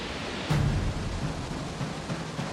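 Victoria Falls in Africa roars with a steady broadband rush of falling water under strong wind, constant and fairly loud throughout, with a brief swell near the start.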